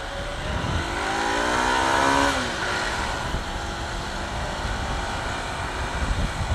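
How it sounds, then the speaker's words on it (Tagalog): A three-year-old 200 NS motorcycle rides through traffic with trucks, its engine droning steadily as a rising tone sweeps upward early on under constant wind and road noise, with no talking. "I'm riding my almost 3-year-old 200 NS."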